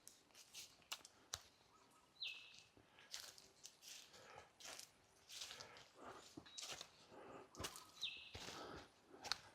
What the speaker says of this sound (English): hear the grey shrike thrush in the background